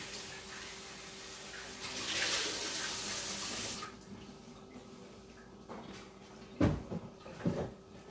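Tap water runs in a short, steady gush for about two seconds while eggs are rinsed for a summer lunch in a New Mexico kitchen, followed by a few faint clunks and knocks.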